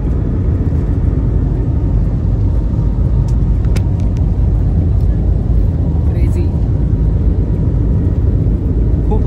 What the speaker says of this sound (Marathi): फायनली आता प्लेन टेक ऑफ झालेला आहे